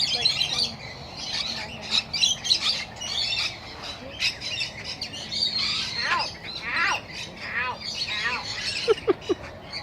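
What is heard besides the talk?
pet birds chirping and squawking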